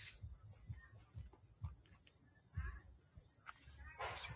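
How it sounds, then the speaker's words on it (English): Cicadas buzz steadily in a fruit garden on Rabbit Island, a continuous high-pitched drone that runs through the whole stretch, with some low rustling and handling noise underneath. "Cicada everywhere."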